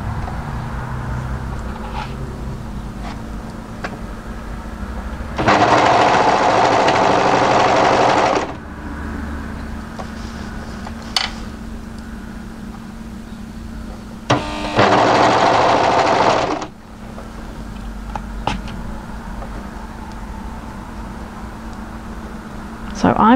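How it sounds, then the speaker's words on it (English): An overlocker runs in two bursts stitching a seam on a mid-length wrap cardigan, a loud steady whir of about three seconds and then about two seconds, with quiet handling between them. "So I'm just going to overlock just past that double notch and stop."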